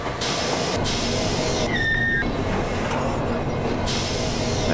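A train brakes in the 3D Railroad Master video game: steady loud rumbling, a hissing air-brake release with a brief whistling squeal in the middle, then the rolling noise carries on.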